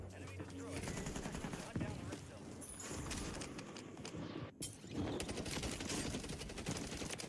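Video game gunfire, repeated rapid bursts of shots that land on the legs, dense and continuous over a busy game soundscape, with no talk.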